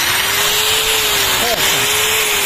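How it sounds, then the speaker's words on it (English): An angle grinder runs off a home power plant's inverter, making a loud steady high whine with a faint pitched tone beneath it, continuous for the whole span. "Now, I disconnect the power plug and hook up an angle grinder."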